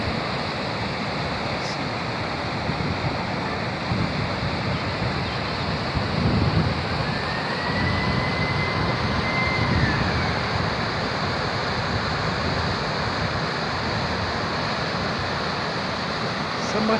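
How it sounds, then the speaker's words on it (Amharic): A waterfall near a riverside bridge roars as a dense, constant wash of rushing water, loud and unbroken with no clear voices over it. "ፏፏቴ እንዴት እንደምታምር"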